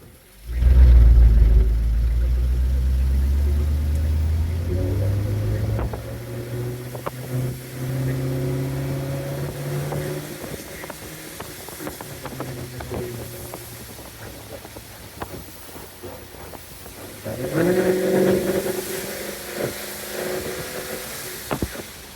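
A 1987 El Camino with an LS swap engine accelerates from a loud initial rev into a steady climbing drone, eases off, then surges again near the end, heard from inside the car with no talking.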